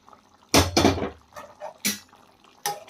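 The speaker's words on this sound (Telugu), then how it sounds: "మనం దీంట్లో ఉడకబెట్టుకున్న వాటర్ కూడా దీంట్లోనే వేసుకోవాలండి" Boiling water is poured into a pot of goat head curry in a few short splashing bursts, close and fairly loud, with quiet gaps between.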